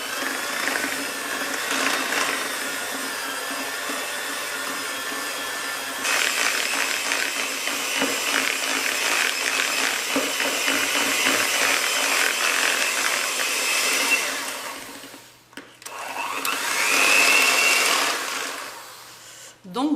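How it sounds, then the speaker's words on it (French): A handheld electric mixer beats butter with icing sugar in a bowl, a steady close whirring drone with faint rattling that runs almost unbroken, cuts out briefly, then resumes. "un petit batteur à la main et hop, 4 à 5 minutes"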